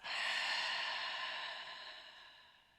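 A long, slow breath out during a breathing exercise, a close, airy exhale that starts full and gradually fades over nearly three seconds.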